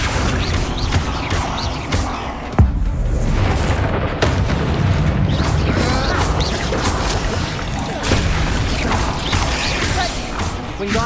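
Bombarda and Confringo spell explosions in the Hogwarts Legacy video game, dense booming blasts and crashing mechanical clatter layered over a constant loud game soundscape, with no talk.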